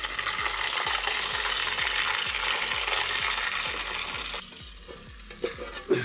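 River perch fries in oil in a pan, giving a loud, steady close sizzle with rhythmic knocks. The sizzle then drops quieter, followed by a few metallic clinks.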